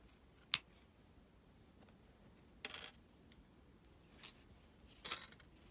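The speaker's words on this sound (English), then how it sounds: "I'm going to bring these wires out and we're going to cut them quite short." Wire cutters snip earring wires short, giving three or four sharp, isolated metallic clicks spaced a second or more apart against a quiet background.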